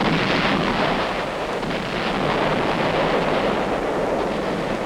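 Naval gunfire from UN fleet ships pounding Wolmi island at dawn, 1950, rendered as a continuous loud, dense roar of rumbling blasts and broadband noise with no distinct pauses or voices.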